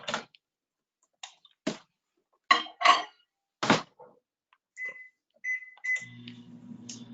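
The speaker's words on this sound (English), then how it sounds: "I'm going to pop this in the microwave for just 30 seconds." A microwave oven heating leftover chocolate to melt it: a series of sharp keypad clicks and short beeps, then a steady low hum as the oven starts running. Close and fairly quiet, with no talking.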